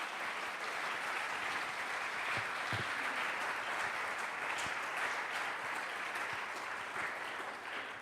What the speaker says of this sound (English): give a big round of applause to all the panelists